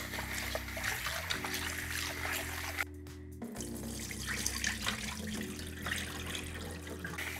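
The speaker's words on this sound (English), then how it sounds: "it's important to rinse the rice several times." Tap water running into a kitchen sink while rice is rinsed, a steady close splashing flow with a brief pause, then resuming with light trickling and clatter.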